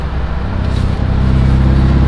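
An air-cooled Volkswagen with about 50 horsepower and an EMPI Hurst-style shifter drives through New Jersey traffic, its engine droning loud and close with a steady low rumble.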